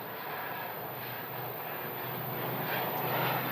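A Southwest airliner lands at Phoenix Sky Harbor, its engines giving a steady broadband roar that holds throughout and swells slightly toward the end, with no voices.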